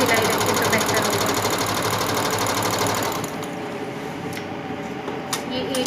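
A sewing machine runs a fast steady stitch along a trouser seam in lawn fabric, loud and continuous, then eases to a lower, quieter hum for the last few seconds.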